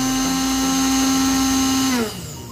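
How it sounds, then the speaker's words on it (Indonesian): A Cosmos blender running after being repaired from a humming-only fault, its motor spinning with a loud, steady high whine that then winds down and cuts off near the end. "Nah, ini blender sudah normal. Putarannya sudah kembali normal."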